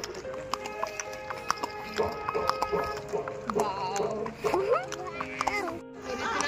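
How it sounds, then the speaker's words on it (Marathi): Horses clip-clopping on a ride in Pahalgam, Kashmir, steady hoof beats close by under a mix of chatter and voices, with occasional tonal calls rising over the mountain trail. "सगळ्यांचे घोडे. प्रियंका टकर टकर टकर. पहिली राईड आहे."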